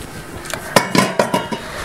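A spoon scrapes and knocks against a bowl while flour is stirred into melted ghee for qurshok rusks, giving a handful of irregular clinks and scrapes up close, with no talking.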